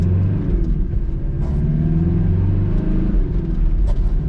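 A little restored Subaru Classic rally car idles and rumbles close by, its engine giving a deep, uneven burble with a few brief revs over a steady low drone.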